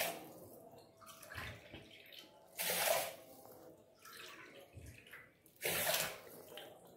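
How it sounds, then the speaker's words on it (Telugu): A glass of water is poured onto washed rice in a vessel, heard as two loud, close gushing pours separated by quieter dripping and splashing. "దీంతో ఒక నాలుగు గ్లాసులు నీళ్లు పోయాలి"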